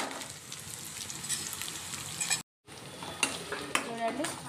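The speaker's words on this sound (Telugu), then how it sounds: "ఆనియన్స్, పచ్చిమిర్చి, కరివేపాకు ఫ్రై అయ్యాయి కదండి" Onions, green chillies and curry leaves fry in a pan with a soft, continuous sizzle, while a spoon stirs and scrapes against the metal in occasional clinks, broken by a brief silent gap.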